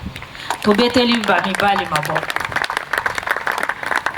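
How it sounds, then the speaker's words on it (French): Women in an audience clap for the men at a church gathering, a broad patter of applause running throughout while a voice talks and sings over the first half. "Je demande à toutes les femmes d'applaudir les hommes."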